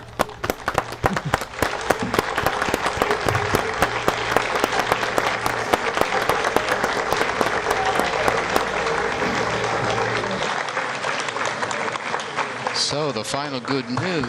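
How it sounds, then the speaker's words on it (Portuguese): Sustained applause fills a mission control room after a Brazilian geostationary satellite launch, dense clapping from many people with scattered cheers, continuous for the whole stretch and thinning slightly toward the end. "podem ouvir os aplausos dentro da sala"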